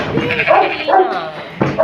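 A dog with its paw caught whimpers and yelps in short high-pitched cries, close and fairly loud, with a person's voice mixed in.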